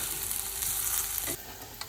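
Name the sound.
beetroot sizzling in a pan for borscht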